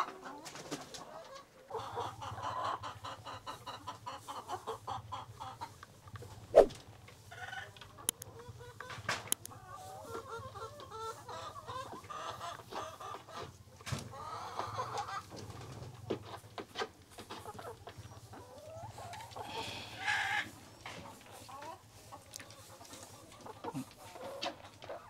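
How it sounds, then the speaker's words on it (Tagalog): Brown egg-laying chickens cluck softly and intermittently in a quiet outdoor setting, with a low hum and occasional faint bird calls in the background. "Ito ang mga manok."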